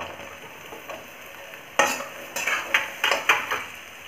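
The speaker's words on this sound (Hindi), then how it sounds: "अब इसमें हम आलू डालेंगे कटा हुआ।" Chopped potatoes drop into a sizzling frying pan and get stirred, a steady fry with several sharp scraping and clinking strokes of a utensil against the pan.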